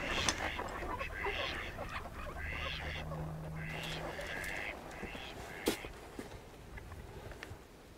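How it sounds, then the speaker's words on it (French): A flock of ducks quacks from a hunting blind in the French countryside, sending out repeated nasal bursts at a moderate distance. Quiet human voices talk underneath. "Ah ben là-bas, il y a une belle volée de canards."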